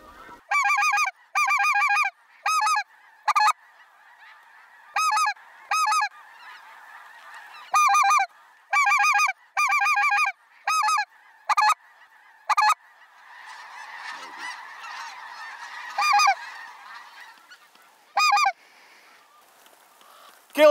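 A flock of geese honks repeatedly over a dry field during a waterfowl hunt, with loud, rhythmic honking bursts near at hand and a softer wash of distant calling underneath.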